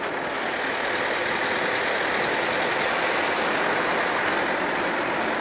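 A car engine idles steadily with a dense, unbroken hissing rumble, close and fairly loud, holding a constant level without revs or pauses throughout.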